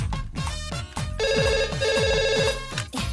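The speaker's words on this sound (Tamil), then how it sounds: "இப்ப போன் எடுக்கலனா ரிங் அடிச்சிட்டே இருக்கும்." Telephone ringing in a Tamil film scene, a loud repeated electronic ring with a sustained trilling tone in the middle, heard alone without speech.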